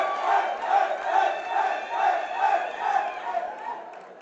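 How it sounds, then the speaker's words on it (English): Crowd roaring and cheering wildly at the 2024 NAPF powerlifting championship after a 305-kilo lift, a dense sustained roar surging in rolling waves for several seconds without letup. "the crowd goes wild"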